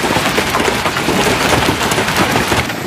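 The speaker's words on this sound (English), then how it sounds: "ping pong and golf ball-sized hail that damaged vehicles and homes along the storm's path" Hailstorm in Kalispell, Montana, with ping-pong to golf-ball-sized hail; a dense, continuous roar of pelting impacts, loud and steady throughout with no voices.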